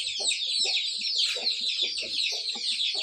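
A large rooster shut in a cage clucks in a rapid series of low, close calls, over a continuous high chorus of other birds.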